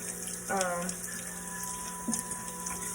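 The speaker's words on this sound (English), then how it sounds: "just rinse it in your hot water" Hot tap water runs steadily over green mussels being rinsed in a kitchen sink, a continuous close splashing hiss with a brief louder gush near the start, no talking.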